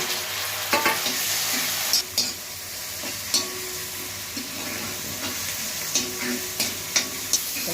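Onions and green chillies frying together in a pan, a close continuous sizzle punctuated by regular scraping stirs of a spoon against the metal, with no speech.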